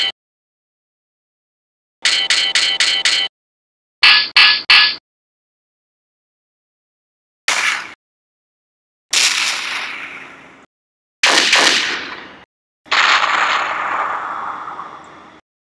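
Pirate ship cannons firing at an island in a homemade animation, heard as several separated blasts and bursts, some in quick rattling runs and others ending in fading booms, with silence between them.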